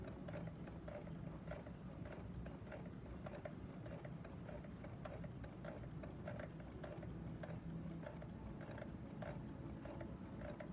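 An overlocker sews binding onto a quilt in a straight run, giving a quiet, steady, rapid mechanical clatter with a regular ticking rhythm throughout.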